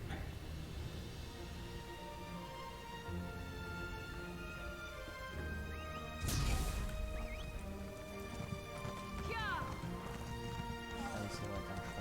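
A horse's hooves clip-clop steadily in the video game The Elder Scrolls Online, moderately loud, with a brief crash partway through. Game sound effects play and faint voices talk over it.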